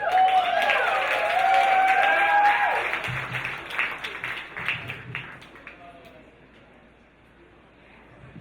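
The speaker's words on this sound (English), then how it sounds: "Let's get a round of applause going." Audience applause at a standup comedy event, clapping and cheering that starts strong, fades over several seconds and gives way to a lone voice speaking through a microphone.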